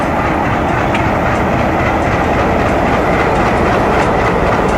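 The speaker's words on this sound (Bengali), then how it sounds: "দেখতে পাচ্ছি যে ট্রেনটি অলরেডি ছুটতে চলেছে" A train pulls out of a railway station with a loud, continuous rumble and steady rolling clatter of wheels on the rails, heard up close and filling the whole stretch.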